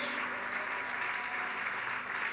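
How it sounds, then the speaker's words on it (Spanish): A church congregation applauds during a sermon, a steady, somewhat distant wash of many hands clapping at a soft level, sustained throughout. "denle un fuerte aplauso al Señor en esta hora"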